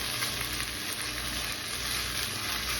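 Shrimp sizzle in a flat-bottom skillet, a loud, continuous close frying hiss with faint stirring underneath and no talking.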